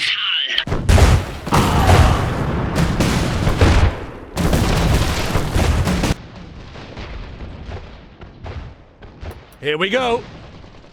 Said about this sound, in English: Someone just shot at me.